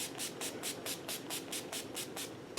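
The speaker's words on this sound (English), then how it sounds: "Then I'm just going to set my face with the NYX Dewy Finish Setting Spray." NYX Dewy Finish setting spray mists onto a face in about a dozen quick, evenly spaced pumps, each a short close hiss, with no talk.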